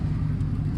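Buick Roadmaster engine idling with a rough, rattly low rumble, steady and close, over a brief moment with no talk.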